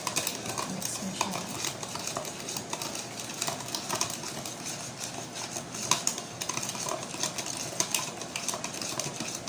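Honeycomb bread mixture is stirred in a bowl, with quick, continuous clinking and scraping of a utensil against the bowl and irregular small clatters, close and steady.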